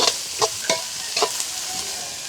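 Onions and green chillies stir-fried in a pan, heard as a close, steady sizzle with a few sharp scraping strokes as they are tossed.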